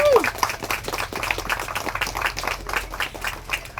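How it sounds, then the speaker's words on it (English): A crowd gathered outdoors in the morning for a walk against domestic violence in Southfield claps steadily, with individual claps audible in the rhythm and a few voices mixed in. "So give yourselves a round of applause for being here this morning."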